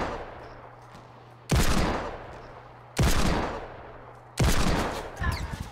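Gunfire in the battle royale game Fortnite, with three loud, booming bursts spaced about a second and a half apart, each trailing off before the next, the last followed by scattered smaller cracks.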